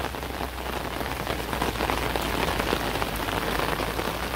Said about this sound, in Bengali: আবার যে বৃষ্টি আবার জোরে নামতেছে